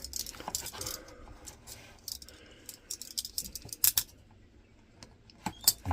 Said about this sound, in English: then all we need to do is cut the ends over here.